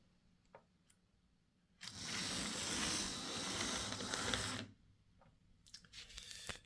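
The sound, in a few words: Hornby Class 2P model locomotive running under power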